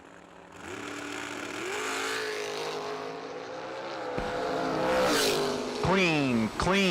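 Two drag race cars, including a T Roadster, launch off the start line at a summer drag racing event, engines rising in loud revving sweeps and rapid gear shifts, close and forceful over a faint announcer.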